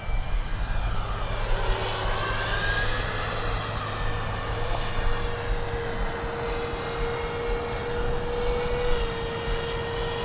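FMS A-10 Thunderbolt V2 RC model jet with twin electric ducted fans making a low, slow pass, a steady high-pitched whine over a rushing roar with a slight shifting pitch, loud and continuous.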